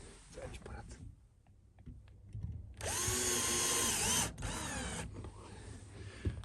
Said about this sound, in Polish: Tutaj muszę sobie ustawić na wkrętarce, żeby tego nie przekręcić